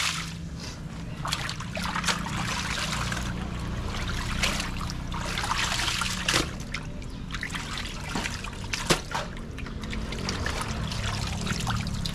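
Water trickles steadily and close by for several seconds, with small splashes and occasional sharp drips and clicks. No one speaks.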